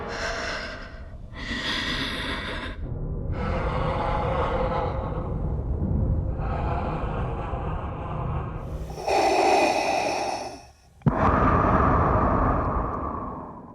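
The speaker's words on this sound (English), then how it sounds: "The heavy breathing is also meant to evoke a lot of energy from Darth Vader's breathing sounds under his helmet too." Heavy, rasping breathing under a helmet in Star Wars The Acolyte: slow alternating inhales and exhales, loud and close, each long breath separated by brief pauses, with no talking.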